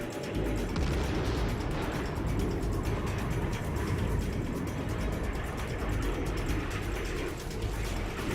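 A cataclysmic bomb explosion from a B-52 Stratofortress roars as a dense, sustained rumble, loud and broad, filling the whole stretch without pause.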